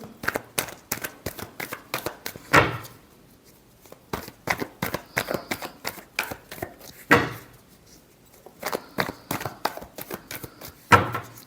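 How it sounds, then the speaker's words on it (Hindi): Tarot cards are shuffled by hand in a quiet room, with quick rattling bursts of riffling and cutting that stop for short pauses and then start again, close and fairly crisp. "Last shuffle."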